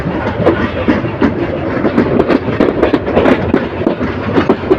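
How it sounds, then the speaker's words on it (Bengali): The Parabat Express, a Dhaka to Sylhet train, rolls past the Brahmanbaria College Para rail crossing, loud and close, with continuous rumbling and dense, rapid clickety-clack of wheels over rail joints. "ব্রাহ্মণবাড়িয়া কলেজ পাড়া রেল ক্রসিং ক্রস করে যাচ্ছে এই যে ট্রেনটি"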